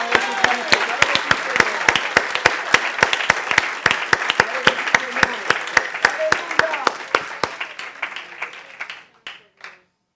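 Church congregation claps in a fairly rhythmic, unison beat with crowd noise and voices underneath, the clapping thinning out and fading to a few last claps near the end.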